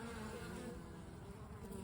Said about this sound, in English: Other bees are maybe just flying, but some bees are bringing pollen.